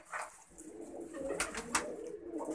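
Pigeons cooing softly at a moderate distance, low repeated coos under a faint outdoor background, with a few brief higher chirps mixed in and no talking.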